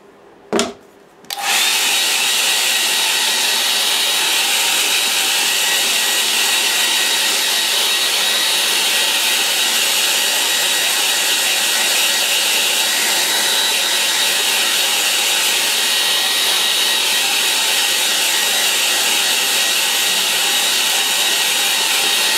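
After a brief knock, a hair dryer whirs loudly and steadily for over twenty seconds, blowing air across a wet watercolour painting of a spring dusk scene.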